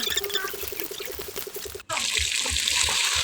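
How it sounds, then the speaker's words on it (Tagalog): Water splashed into a pan of frying chicken poppers sets off a sudden loud, steady sizzling hiss that cuts in after a gentle, rhythmic frying crackle. "naglagay pala ako ng konting tubig para mas maganda pagka-crispy guys"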